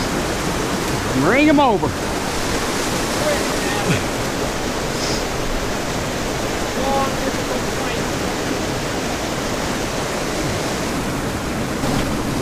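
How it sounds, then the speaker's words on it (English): A waterfall beside a river where trout and sturgeon are being caught gives a steady broadband rush throughout, with brief voices and a few chirpy sounds over it. "I'll go down to the waterfall."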